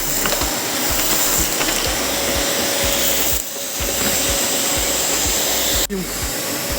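A vacuum cleaner sucks up old clay and construction debris in an attic, a steady loud roar with rapid rattling clicks and knocks of debris going up the hose, close and continuous.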